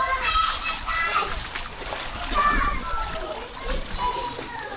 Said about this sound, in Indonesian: Airnya kencang sekali